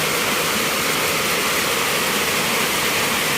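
Floodwater surges through homes during a heavy downpour, a dense, steady broadband roar of rushing water that fills the whole stretch without pause, close and loud, with no voices over it.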